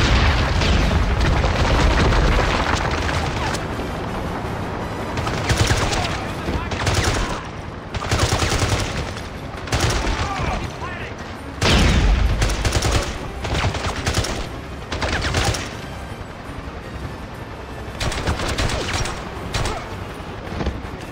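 AK rifle fire in the James Bond 007: Blood Stone video game, with dense sustained automatic bursts and booming impacts filling the whole stretch, loud and continuous with brief dips.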